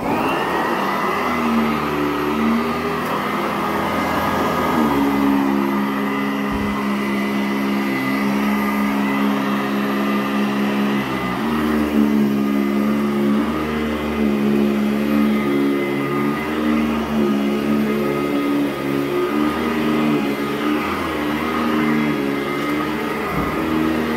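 A 2010-build Sanitaire SC899 Type F upright vacuum cleaner runs steadily and loudly up close, a constant motor drone that shifts slightly in pitch as it is pushed, with no talking.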